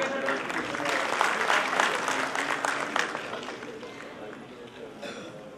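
Audience at a municipal award ceremony applauds loudly and steadily, a dense crowd clapping that gradually fades toward the end.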